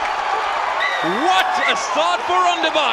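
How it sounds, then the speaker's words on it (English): Rugby match crowd at a Rondebosch versus Bishops school game cheering in a steady roar, with whoops rising over it, while a commentator talks throughout. "I don't think the crowd can even believe it, but they are cheering"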